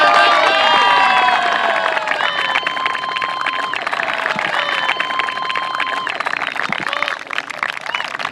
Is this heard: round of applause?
yes